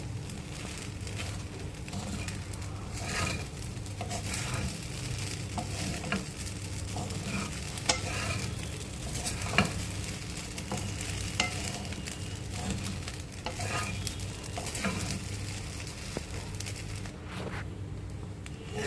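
Sabudana khichdi being stirred and sautéed in a thick-bottomed kadai, a low steady sizzle under repeated scraping and patting of the spoon, close and fairly quiet for the whole stretch.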